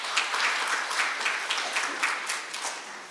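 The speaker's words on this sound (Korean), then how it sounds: "박수 부탁드리겠습니다." Applause from a conference audience for a presenter at a carbon-neutrality international conference session, steady clapping from many hands filling the room for about three seconds, tapering slightly at the end.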